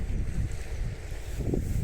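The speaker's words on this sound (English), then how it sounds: "it's windy today" Strong gusty wind at Stonehaven buffets the microphone with a deep, continuous rumble, rising and falling throughout with no voices.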